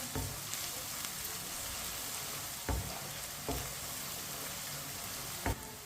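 Steady sizzle of garlic frying in a pan, with a few scattered knocks of a spoon stirring through the constant crackle.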